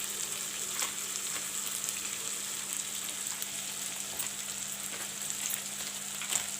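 Chili, coriander and cumin powders fry in hot oil in a pan for a soya chunk and potato curry, giving a soft, steady sizzle with light crackles and a faint low hum, no talking.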